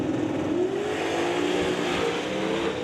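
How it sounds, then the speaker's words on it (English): Two drag race cars sit pre-staged on opposite sides of a racetrack, engines roaring loudly and steadily with a rising turbo whine as boost builds, no speech. "Both cars pre-staged, you can hear them building up the boost on both sides of the racetrack."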